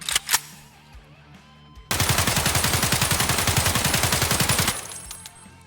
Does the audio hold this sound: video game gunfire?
yes